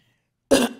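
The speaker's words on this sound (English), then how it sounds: "That's not a COVID cough." A single short, sharp cough during a county commissioners' board meeting, heard close and alone after silence, with a brief trailing decay.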